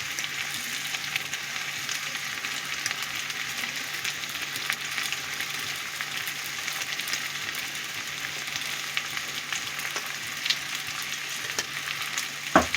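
Turmeric and red chilli powder sizzle in a frying pan for a vegetarian chhana curry, giving a steady, close, bright frying hiss that runs the whole time with a few faint clicks.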